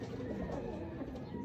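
Domestic racing pigeons coo softly while being fed at seven in the morning, a faint, continuous murmur of bird calls against a low background hum.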